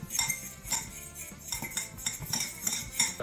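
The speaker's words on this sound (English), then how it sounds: "I'm going to stir that up." A utensil stirs jerky marinade with ginger in a bowl, giving repeated close clinks and scrapes against the bowl in a quick uneven rhythm, with no talking.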